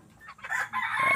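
A native chicken rooster crows once at close range, a short strained call with a rising middle and a drawn-out end.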